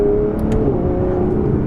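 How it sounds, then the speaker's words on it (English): An Aston Martin Vanquish drives with its sport settings engaged. The engine drones steadily and close, and a couple of brief, sharp exhaust crackles pop early over the run. "you can really hear that 177 derived exhaust system crackling"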